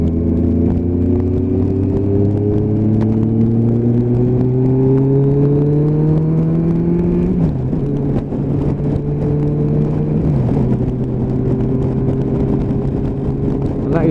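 A GTR motorcycle accelerating hard on the road, its engine note climbing steeply through two gears with rising harmonic whine, then dropping at each shift before pulling again, close and loud.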